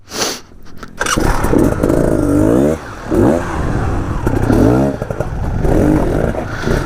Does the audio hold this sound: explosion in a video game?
no